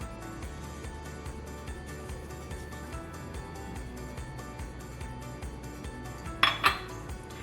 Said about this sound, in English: Now I'll mix the sugar and yeast together, just a quick mix.